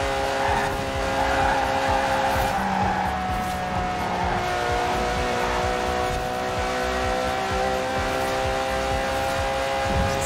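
A fast car roars along a track in Forza Horizon 4, its engine holding a loud, steady, tonal drone with slight pitch shifts and no break for the whole stretch.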